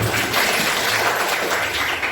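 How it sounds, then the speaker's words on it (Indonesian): Classroom full of students clapping together for themselves after an activity in a coding lesson, a dense, steady wash of hand claps filling the room for a couple of seconds. "Tepuk tangan untuk kalian semuanya."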